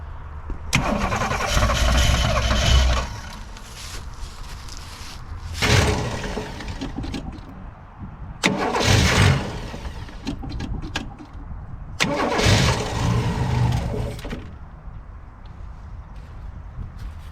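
An abandoned 1960s Ford, a 1962 Falcon or 1967 Galaxie, is cranked repeatedly: four loud bursts of starter grinding and engine catching, each a few seconds long, separated by a rough idle or quieter gaps, close by with no talk.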